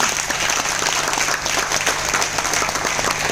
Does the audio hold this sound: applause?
yes